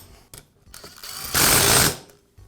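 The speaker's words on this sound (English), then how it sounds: "I'll go ahead and tighten up the first two bolts a little at a time." Metal bolts on a Karcher pressure washer pump being tightened in small increments, giving close mechanical ratcheting clicks and scrapes with a louder, sustained grinding burst in the middle.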